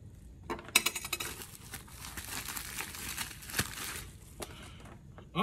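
Small metal IWI zipper pulls poured from a little bag, a close jingling clatter with crinkling plastic, loud at first and then tapering into scattered clinks.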